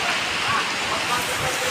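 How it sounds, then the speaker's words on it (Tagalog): Heavy rain comes down hard in a loud, continuous rushing hiss close by, steady throughout the short stretch. "Ang lakas ng ulan"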